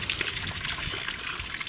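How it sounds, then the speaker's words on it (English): Water gushing and splashing steadily out of a boat's bilges, a continuous churning pour heard close up for a couple of seconds. "The noise you can hear behind me is the water pouring out of the bilges."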